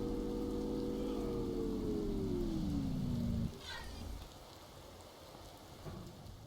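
Heavy acid rain in the game Empyrion: Galactic Survival, a dense, continuous hiss of rainfall. A loud droning hum slides down in pitch and cuts off midway, and the rain carries on alone.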